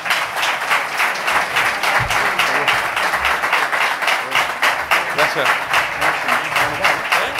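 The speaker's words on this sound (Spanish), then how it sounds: "Un aplauso para él." An audience applauds a flamenco guitarist honored at a heritage event, with loud, continuous clapping running the whole time while a voice briefly speaks over it.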